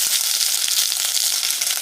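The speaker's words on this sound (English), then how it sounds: "I add my string beans, and now I'm stir frying it just a bit to coat it with that oil" String beans stir-fry in hot oil, giving a bright, steady crackling sizzle with dense pops throughout, close and fairly loud, with no one talking.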